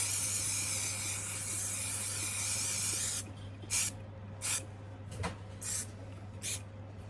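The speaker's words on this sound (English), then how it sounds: "I just want to spray this and fix this" Fixative spray sprayed onto artwork hisses in one continuous burst for about three seconds, followed by four or five short, sharp puffs, close and clear, with no talking.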